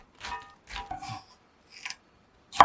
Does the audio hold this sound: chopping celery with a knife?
yes